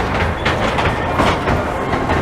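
Trains rattle past on the seafront at Brighton Beach, a steady rolling clatter of wheels on track that fills the whole moment, fairly close and continuous with no voices over it.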